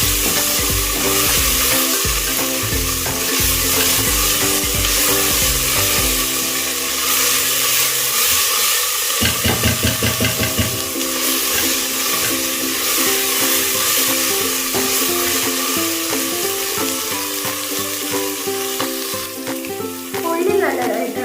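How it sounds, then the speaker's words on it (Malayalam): Chicken curry ingredients, Kerala style, frying in a pan and being stirred together with salt, giving a steady loud sizzle with scraping stirs throughout, no talking. "എല്ലാം കൂടി ഇളക്കി യോജിപ്പിച്ച് കൊടുക്കാം."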